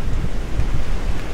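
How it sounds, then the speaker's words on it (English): Wind gusts buffet a sailboat at sea under reefed sail, a brief loud rumbling roar of wind against the microphone with low surging noise. "Getting a little wind."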